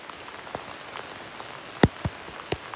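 Rain falls steadily outside, a soft patter with a few sharper drops striking a surface close by, quiet and continuous with no voices.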